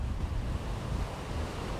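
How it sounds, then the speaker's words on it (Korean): Sea waves wash against beach rocks on Gapado island, a continuous rumbling surf with wind buffeting the microphone, steady and fairly close, with no voices. "파도가 해변 바위에 철썩인다."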